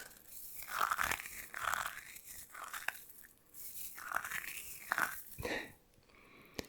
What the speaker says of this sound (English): they're crunchy hair beads tonight